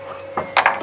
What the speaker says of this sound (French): Et ensuite on va venir mettre un peu de bois